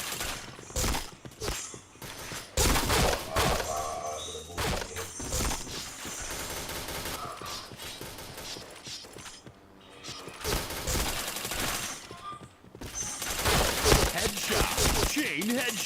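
Gunfire in a first-person video game shooter: repeated sharp bursts and single shots, loud and close, scattered across the stretch with short quiet gaps between volleys.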